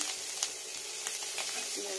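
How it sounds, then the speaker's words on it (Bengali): Spices with chilli powder, meat masala and green chillies frying in a hot pan, a steady close broadband sizzle with a few stirring scrapes. "একটু ফ্রাই করবো।"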